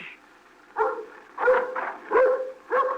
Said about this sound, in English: Brucey, now you stop your barking.